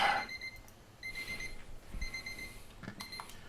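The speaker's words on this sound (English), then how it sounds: "And there's a timer." A kitchen timer alarm rings in short repeated bursts of bright electronic beeping, with pauses between groups, fairly clear and close in a quiet kitchen.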